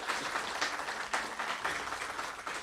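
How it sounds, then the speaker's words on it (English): Applause for the EverQuest contest winners at Fippy Fest 2024 sounds as steady, dense clapping that holds at an even level for a few seconds, with no voices over it. "Round of applause for the EverQuest winners on social media"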